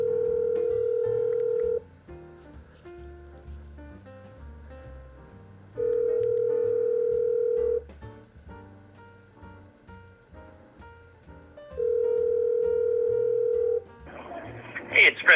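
A telephone call rings before voicemail, with three long, steady tones spaced several seconds apart over soft music and background sounds, ending in a brief burst of noise.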